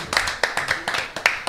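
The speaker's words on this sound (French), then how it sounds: "On les applaudit." A small group clapping hands close by, a short burst of quick, uneven claps lasting barely over a second, with a voice faintly mixed in.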